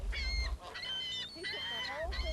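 Several geese honk repeatedly in harsh, overlapping calls, fairly close, with a low rumble of wind or handling noise at the start and end.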